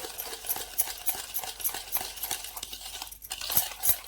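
A sugar and ghee mixture is whisked briskly in a bowl for an eggless mava cake, giving a steady run of quick scraping, clinking strokes, close and moderately loud, with no talk.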